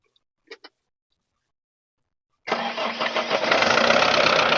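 A 2013 Tata Sumo's engine cranks and starts after two short clicks and a pause, then catches and settles into a loud, close, steady idle.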